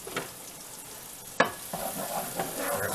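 Onions sizzle in garlic butter in a pan with soft, steady frying. A sharp clack near the middle marks a utensil stirring, followed by lighter scraping.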